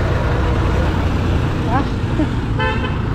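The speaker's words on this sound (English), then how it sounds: "the truck so noisy" A noisy truck on a Lagos street sends a loud, continuous engine roar close by, and a few short horn toots cut through the heavy traffic din.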